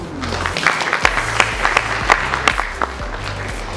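An audience at an eco awards gala applauds in a large hall, a dense continuous wash of clapping heard over a low sustained musical backing.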